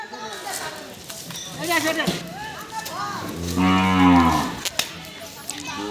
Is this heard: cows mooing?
yes